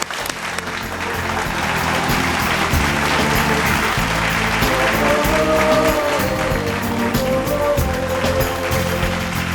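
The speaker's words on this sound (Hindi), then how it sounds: "जोरदार तालियां रूपा जी के लिए।" A studio audience on a Hindi television game show applauds loudly and continuously, a dense wash of clapping with some music-like tones underneath and no clear speech.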